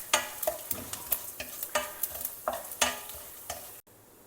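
Dals, methi seeds and dry red chillies roasting in a pan over a low flame, stirred in a steady rhythm of scraping strokes about every third of a second, close and clear with no voices.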